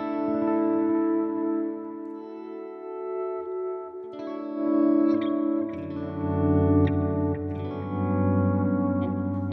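An electric guitar plays sustained chords and notes through a mini pedalboard with delay and reverb effects, with tails echoing and washing out between phrases. It is loud and close, with no talking.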